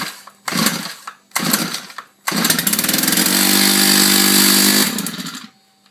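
A Stihl Kombi KM 130R engine pull-started on choke: two short ripping pull-cord attempts, then the engine catches and runs loud and close for a couple of seconds before cutting out.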